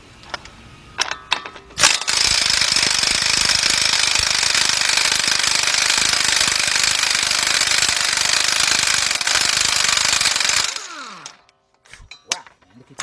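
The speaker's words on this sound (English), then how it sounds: "what we're gonna do is take off the center nut, and we're gonna use our impact gun" A pneumatic impact gun removes the axle center nut on a Chrysler Sebring or Dodge Journey or Avenger during a transmission replacement, hammering loudly and continuously for about nine seconds at close range, with shop clatter before and after.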